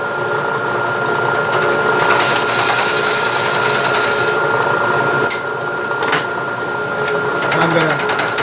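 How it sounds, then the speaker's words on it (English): A milling machine fly cutter takes a trial cut on a metal workpiece, making a steady, loud mechanical whir with rapid regular ticking, while someone talks over it. "while it's taking this trial cut on here"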